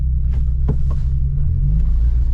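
A Vauxhall Nova car engine rumbles steadily on a short test drive, a low constant drone shifting slightly as gears are changed, with no talk over it.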